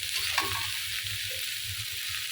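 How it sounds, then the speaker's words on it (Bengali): Sliced bitter gourd sizzles steadily in a hot pan for a Bengali bhorta, a close, continuous frying hiss with a soft stir or two and no talking. "করলা বাজিতে দিয়ে দিলাম"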